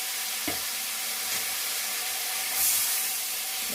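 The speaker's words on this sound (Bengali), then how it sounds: "মশলাটা আমি ভালো করে কষিয়ে নেব" Masala spice paste frying in a pan for a fish curry with winter vegetables, giving a steady close hiss and sizzle with a couple of soft utensil knocks.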